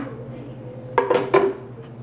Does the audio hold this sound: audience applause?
no